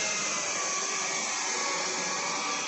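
An Electrolux ZB89 vacuum cleaner with a PN6 Omni Flow power nozzle runs on a rug, giving a steady close whir and broad airflow hiss at an even level, no voices.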